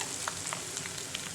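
Spices and halved green chillies sizzle in hot oil for a daal chicken tadka, a steady close frying hiss with small crackling pops throughout and no talking.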